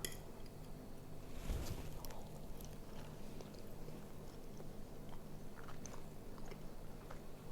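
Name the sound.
biting and chewing cinnamon apple fritter cake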